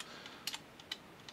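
Code is typed on a computer keyboard in a handful of quick, light clicks at an uneven pace, close but faint against a quiet background.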